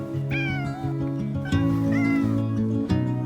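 A ginger cat meows in a park, two or three plaintive drawn-out cries close by, set over an ongoing tonal layer of sustained background notes.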